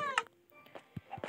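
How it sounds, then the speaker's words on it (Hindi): A cat meows in the video game Minecraft, with a short, clear tonal cry at the start, followed by a few fainter soft sounds. The clip is quiet and brief. "मेरी बिल्ली ने खरगोश की टांग दी है मुझे।"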